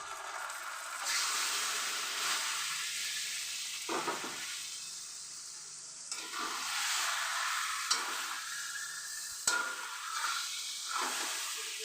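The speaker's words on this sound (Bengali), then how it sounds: "এরপরে আমি এখানে ম্যারিনেট করা মাংসটা আমি দিয়ে দিলাম" Marinated chicken pieces hitting a pan of fried onions for chicken biryani, a loud, steady hiss and sizzle close up that surges and settles with stirring, with no voices.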